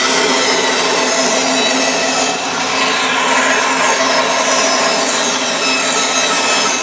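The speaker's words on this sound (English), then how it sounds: "we rough cut off the excess fretboard" Excess wood being rough cut off a guitar fretboard, a loud, close, continuous rasping saw noise that holds steady throughout with only a slight dip midway.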